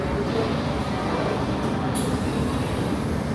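Underground metro train at Metro Center Station rumbles loudly and steadily, a dense roar of wheels and car noise filling the whole stretch, with a brief higher screech near the middle and people talking beneath it.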